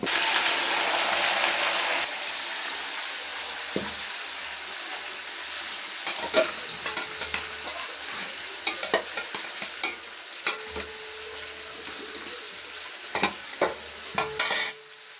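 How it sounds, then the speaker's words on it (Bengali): Broiler chicken pieces and potatoes frying in hot oil in a pan, a steady loud sizzle with sharp clinks and scrapes of a spoon stirring against the metal, the hiss strongest at first then settling under repeated utensil knocks. "পেঁয়াজটা বেরেস্তা করা হয়ে গেল, মাংস আর আলুটা আমি এখানে বাইজা নিব।"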